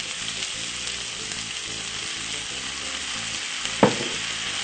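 Kale and pasta fry in a pan while being stirred, producing a loud, even sizzle close to the mic with one sharp clack of a utensil near the end.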